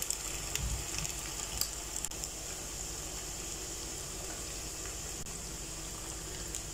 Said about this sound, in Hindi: अब इनको चारों तरफ से पलट पलट कर गोल्डन होने तक फ्राई करेंगे अच्छे तरीके से